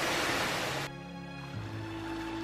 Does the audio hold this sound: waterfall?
yes